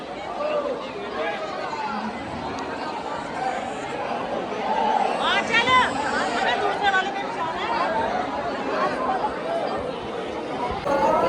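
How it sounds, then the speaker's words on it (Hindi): Dense crowd chatter and babble from many devotees at Khatu Shyam temple near Shyam Kund, a steady close hubbub that swells slightly midway, with scattered calls rising out of the mass of voices. "ये देखिए आप भीड़"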